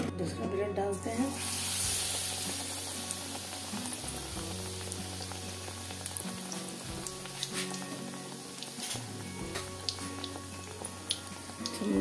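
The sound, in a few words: bread frying in hot oil for dahi bade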